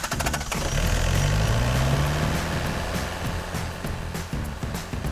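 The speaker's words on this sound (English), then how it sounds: "This engine powers the tracks." An excavator's diesel engine runs in the digger's upper carriage with a steady loud droning hum, a low tone rising briefly early on, then settling into a continuous rumble.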